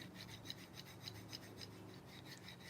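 A soft, quiet rasping from a folding knife, a fast gritty rattle pulsing in even strokes throughout, close up with no talking.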